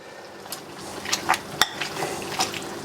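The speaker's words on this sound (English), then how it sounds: "Mash that together, just get a loose mash" Boiled sweet potatoes being mashed with butter using a hand masher: a string of soft, squishy presses and light clinks against the pot, irregular and close.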